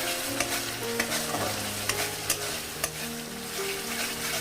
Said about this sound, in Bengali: যতক্ষণ না চারিধার দিয়ে তেল ছেড়ে আসছে, অনেকটা ছেড়েই এসেছে, আমি আরও একটু কষিয়ে নেব।